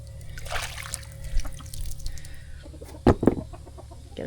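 Hens clucking in a coop, with soft scattered clucks through the clip and two sharper, louder squawks near the end over a faint background hum.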